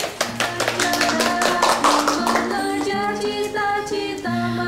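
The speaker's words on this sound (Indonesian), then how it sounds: "Kita tepuk tangan sekali lagi." A group of children clapping hands together during an Indonesian Hindu educational television quiz game, sharp rhythmic claps at first, then giving way to sustained musical tones.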